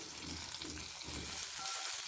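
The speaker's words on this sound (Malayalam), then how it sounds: "നമുക്ക് ഈ കടുക് വറുത്തത് ഇതിലേക്ക് കൊട്ടാം." Fried mustard seed tempering is poured into sweet pineapple pachadi for a sadhya feast, giving a close, steady sizzle and crackle that fades slightly near the end, with no talking.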